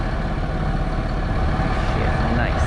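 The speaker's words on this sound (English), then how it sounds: "There's the tractor anyway." A farm tractor idles at a barley planting, a steady low diesel rumble with no breaks, close and loud, and faint talk is mixed in.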